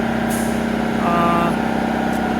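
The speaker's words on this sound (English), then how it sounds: "I'm going to be negotiating with an air compressor running in the background" An air compressor runs steadily in the background during a pre-purchase inspection of a 1954 Chrysler New Yorker, a constant mechanical drone with a low hum that holds unchanged for the whole stretch.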